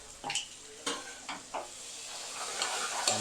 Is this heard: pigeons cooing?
no